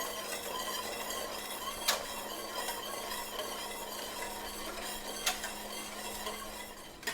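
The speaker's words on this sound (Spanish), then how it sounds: "yo no dejo de menearle porque no quiero que se me pegue" Corn masa champurrado being stirred in a pot on the stove, a steady scraping and swishing with faint bubbling throughout, plus a couple of louder clinks from the spoon against the pot.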